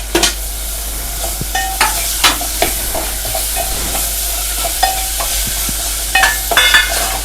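Chopped tomato sautéing in oil in a pan for a Bhogi vegetable dish, a low sizzle under repeated spatula scrapes and taps against the pan at an uneven rhythm, close and fairly loud.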